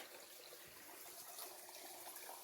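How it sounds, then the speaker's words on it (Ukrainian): Small village stream flowing along a roadside, a steady, soft broadband wash of running water heard close and continuous, with no voices. "Ось тут у нас такий потічок"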